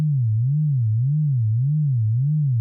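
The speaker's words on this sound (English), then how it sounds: "just hear the sine wave" A synthesized sine wave, a pure low steady tone whose pitch wavers gently up and down in an even, slow vibrato, clean and alone without any other sound.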